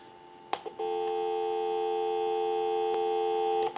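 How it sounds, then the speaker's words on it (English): Dial tone on a Western Electric 317 wooden wall telephone: a few clicks as the line opens, then a steady, unbroken hum that holds loud and even for about three seconds before more clicks. "Go ahead and access the dial tone."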